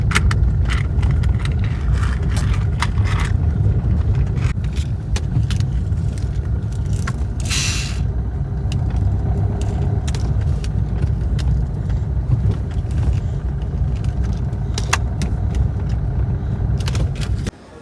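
A car rolling into a parking area at a hill temple near Coimbatore, with a steady close engine and road rumble throughout, interrupted by scattered clicks, rattles and a brief scraping burst.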